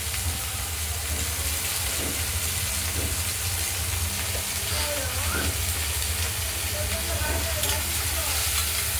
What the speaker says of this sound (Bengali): নাড়াচাড়া দিলাম। ভেজে দেবো